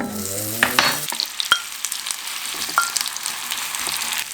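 Soft sizzling and faint crackling of bread toasting in a hot frying pan, with a few light clinks and scrapes, fairly close and steady, no talking.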